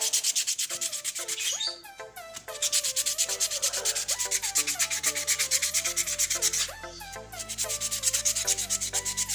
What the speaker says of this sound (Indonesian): menggunakan amplas kasar grade 400 bisa.